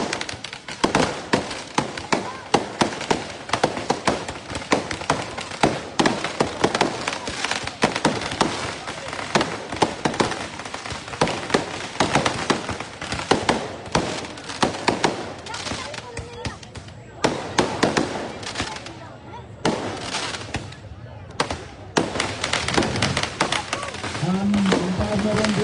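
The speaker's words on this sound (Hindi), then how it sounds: "ना थमने वाली आतिशबाजी है।" Nonstop celebratory fireworks after a cricket final win in Ghazi Abad, with dense rapid crackling and popping bursts sustained throughout, loud and close, with a crowd and voices faintly underneath.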